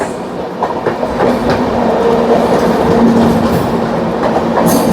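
The Bandra Terminus–Barauni Avadh Express passes close by on the Indian railway, a loud, steady rumble of rolling wagons with faint rhythmic clatter from the wheels.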